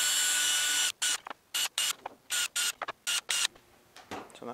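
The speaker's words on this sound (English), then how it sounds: "the easiest way to do this is to drill dead center of that groove, two pinholes there" A small drill whirs steadily, then cuts into rapid short bursts with brief gaps, drilling pinholes into a wooden beehive roof, close and fairly loud, no voices.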